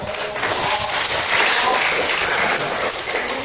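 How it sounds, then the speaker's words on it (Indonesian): Students in a high school classroom clap together in a loud, dense burst of applause that holds steady throughout, close and filling the room, with no talk over it. "Tepuk tangan dulu."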